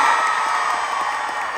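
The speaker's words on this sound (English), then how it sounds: "a big round of applause for a beautiful set" Loud, full audience applause mixed with cheers and whoops fills a theatre after a live set at a concert, a steady roar that fades only slightly.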